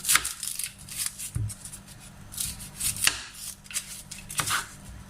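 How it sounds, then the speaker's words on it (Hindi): A medium onion is chopped with a knife on a board, sharp irregular chopping strikes spaced through the clip, fairly close and clear with no talking. "एक प्याज लिया, इसको कट करेंगे"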